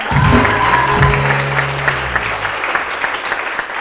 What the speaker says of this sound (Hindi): बहुत सारी तालियां उरूज के लिए